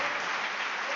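Congregation in a church clapping hands together, a brief, dense burst of steady applause at moderate loudness.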